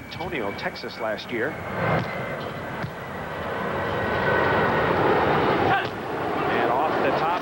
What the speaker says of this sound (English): you hear jet engines. We are right in the glide path of San Jose International Airport.